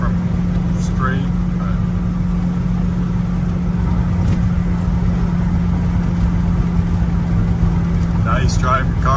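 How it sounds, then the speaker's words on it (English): A 1966 Chevrolet El Camino's exhaust drones steadily as it drives down the road, a mild, even rumble with a constant low hum and a little road noise. "Exhaust isn't overwhelming, just nice little sound to it."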